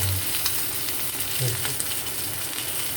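Green and red chillies frying in hot oil crackle and sizzle steadily and close up, with a couple of soft low knocks from the pan.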